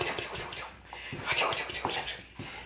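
Running water splashes and gurgles steadily nearby in a kitchen, a continuous washing sound with irregular bursts.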